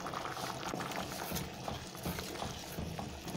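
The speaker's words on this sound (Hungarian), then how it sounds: "látjátok, már forr is" Beans and seasonings simmer in water in a pot, a steady, dense bubbling and rolling boil heard close up, continuous and fairly quiet with no talk.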